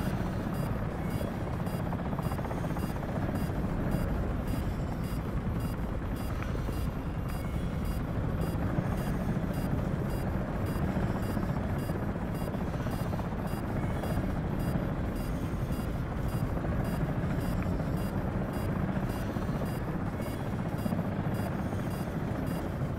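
A Comanche helicopter flying in a combat video game: a steady, loud rotor and turbine drone with a fast rhythmic beat holds throughout, with no talk.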